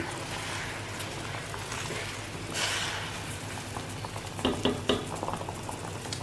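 Mango squash syrup boiling in a pot, a steady close bubbling hiss with a few louder pops and stirring knocks near the end.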